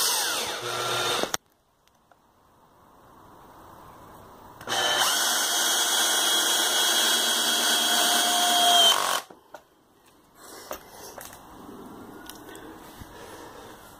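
A power drill drives 70mm screws into the wood of a trough planter, giving two sustained high-pitched whirring bursts, a short one at the start and a longer one mid-clip, separated by quiet handling noise.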